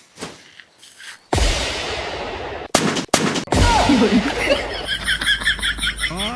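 Several sharp gunshot cracks ring out in a burst during Diwali, followed by laughter and chatter that continue over a steady background noise.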